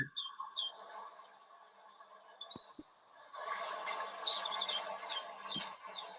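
Several birds chirp and sing outdoors on a windy day, with short bright calls scattered across the first half and a busier, denser chorus later, all fairly faint.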